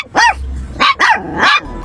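A Chihuahua lets out four sharp, high-pitched yappy barks close to the microphone, quick and uneven, with brief gaps between them and no talking.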